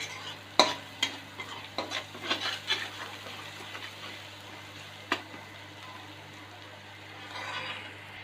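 Pumpkin shoots, gourd shoots, brinjal and potato stir-fried in a pan, with a faint steady sizzle under scattered scraping and tapping of a spatula, a few sharper clinks standing out.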